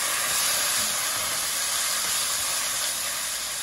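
Chopped onions hitting a hot pan with a little oil and frying, a loud steady broadband sizzle that stays constant throughout, with no talking.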